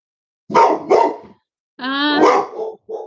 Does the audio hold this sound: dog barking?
yes